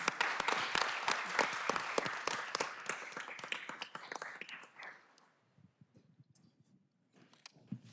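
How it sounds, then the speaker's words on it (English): Dense applause from an audience at a city council meeting in Durham, loud for about five seconds and then thinning to a few scattered claps and quiet room noise. "So let's give him a round of applause."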